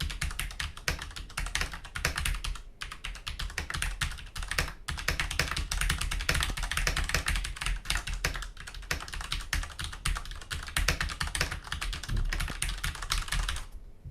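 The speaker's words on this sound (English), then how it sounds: "the noise you get from Cherry MX Blacks" Rapid, continuous typing on a Cherry MX Black mechanical keyboard for a CM Storm Trigger, picked up from close range with a steady stream of clacky keystrokes and no talking.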